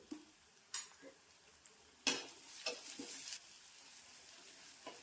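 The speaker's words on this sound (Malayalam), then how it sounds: "നമുക്ക് നന്നായിട്ട് വഴറ്റി കൊടുക്കണം." Onions sauté with a pinch of salt in a pan, giving a soft sizzle with a few sharp stirring scrapes and clinks that come in short bursts, fairly quiet overall.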